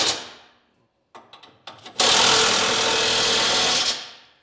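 A powered driver with a 15/16 socket snugs down the bolts on a trailer hitch receiver. A few short clicks are followed by a loud, continuous two-second whir that then trails off.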